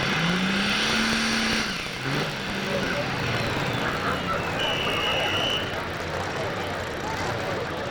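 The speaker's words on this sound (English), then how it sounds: "Alan's got a little problem there keeping the RPMs going" A pulling tractor in the 12,000 lb Pro class at an Illinois tractor pull revs and roars in the distance, its engine note rising and falling unevenly beneath a loud crowd and announcer ambience.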